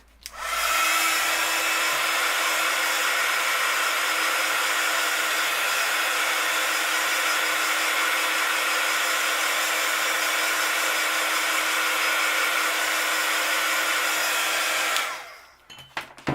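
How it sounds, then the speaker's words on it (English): A heat gun runs continuously for about fifteen seconds, drying paint on a stencil with a steady, loud, close blowing roar that cuts off near the end. "So we'll just get the heat gun again."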